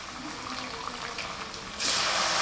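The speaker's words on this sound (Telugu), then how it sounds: "ఇంకో వాటర్ వేస్తున్నాను." Water pours from a glass and splashes into a cooking pot, growing suddenly louder and fuller near the end, with no talking.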